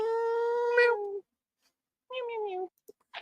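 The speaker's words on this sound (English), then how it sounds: "Cute kitty." A cat meows twice, loud and close: a long drawn-out call, a short pause, then a shorter second meow, with a faint click or two afterward.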